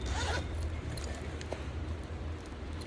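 A metal zipper chain on the side pocket of a purse is run open or shut in one quick rasping pull near the start, followed by faint handling rustle against a low background hum.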